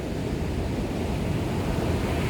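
Ocean surf at Nha Trang beach in Vietnam rolls in as a steady, broad wash of noise, with some wind buffeting the microphone.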